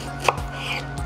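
Strawberries and blueberries chopped with a knife on a board, a single soft close chop then faint knife sounds, no voices.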